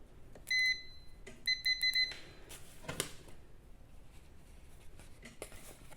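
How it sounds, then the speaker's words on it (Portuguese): A multimeter set to continuity mode on a washing machine circuit board gives short electronic beeps: one brief beep, then a quick burst of three, among faint handling clicks and probe taps. "Multímetro agora na escala do BIP. Buzzer."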